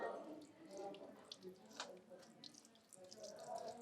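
Water trickles and splashes steadily into a hole in stone at the Vijaya Vitthala Temple, Hampi, a soft continuous running sound with faint background noise.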